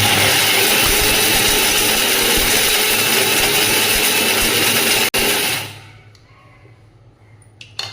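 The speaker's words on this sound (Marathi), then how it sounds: "पुन्हा मिक्सरला फिरून घ्यायचं" A kitchen mixer grinder whirs loudly and steadily for about five seconds as it grinds dried dates (kharik) with ghee into powder, then winds down and falls quiet.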